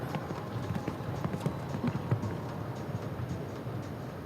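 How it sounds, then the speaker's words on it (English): Horse hooves clip-clopping on the ground of an outdoor show jumping arena during a CSI5* 1.40m competition, a steady run of soft, moderately close beats over a low arena background murmur. "Another horse that looks lovely and fresh."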